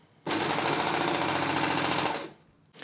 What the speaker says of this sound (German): Und nun nähst du in die entgegengesetzte Richtung in deine Naht wieder herein und drehst dabei den Stoff